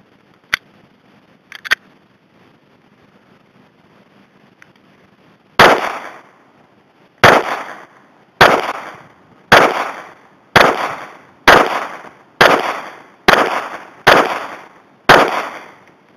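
A Walther P99 AS pistol fires .40 Smith & Wesson rounds: about ten sharp, loud, close shots in a quick, even rhythm, after a quiet stretch with a couple of small clicks.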